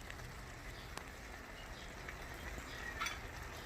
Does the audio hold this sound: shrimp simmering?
yes